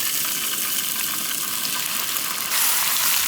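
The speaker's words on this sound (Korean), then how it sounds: "프라이팬에 살짝 열대면 쭈꾸미를 넣으세요." Webfoot octopus dropped into a lightly heated frying pan, a loud dense sizzling hiss that swells suddenly near the end as the pan flares, close and continuous with no voices.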